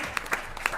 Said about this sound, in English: let's give a big round of applause to the education panel